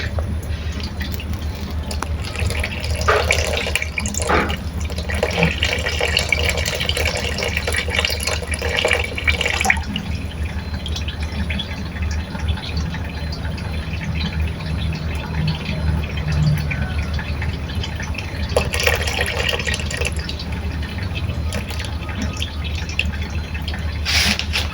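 Hot running water washes silver recovered from used imitation watch batteries, keeping up a steady, fairly loud splashing hiss for the whole stretch with brief swells of heavier flow.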